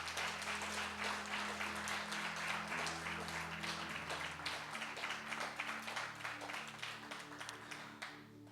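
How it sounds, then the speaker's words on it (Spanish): Church congregation clapping to praise the Lord, a dense sustained applause at even loudness through the whole stretch, with music in the background. "Dale fuerte el aplauso al Señor."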